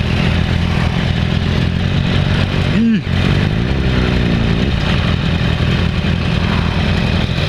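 A 2015 Yamaha R1 sport bike engine runs at a steady low, throbbing idle-like drone throughout a slow U-turn, with a brief dip and rising pitch sweep midway, close and loud with wind noise.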